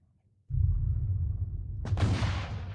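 Naval artillery from Admiral Nakhimov's Russian warships firing explosive shells into the Ottoman fleet: a steady low rumble, then a sudden loud, sharp blast that bursts out and roars on to the end.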